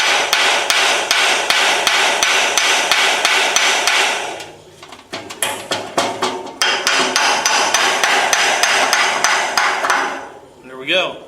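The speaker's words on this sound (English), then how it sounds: "I'm going to try to persuade them a little bit with a hammer and get them to break loose a little" Hammer blows on seized, frozen parts of a Ford Model A hot rod frame: rapid metallic strikes in two long bursts separated by a brief pause, loud and close, ringing metal, no talking.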